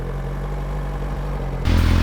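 A 2017 Suzuki GSX-R1000R superbike with a Euro 4 exhaust idles nearby in a steady, low, muted hum that jumps louder and rougher near the end as the engine revs up.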